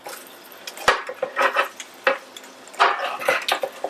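Chicken wings being flipped over in an air fryer basket make a few light metallic clinks and scrapes, with a sharp clack near the start and softer clatters after it, close and fairly quiet.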